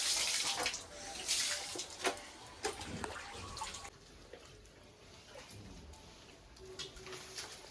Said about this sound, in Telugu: ఇక్కడ నుంచి వాటర్ వస్తున్నాయి, సన్న దార.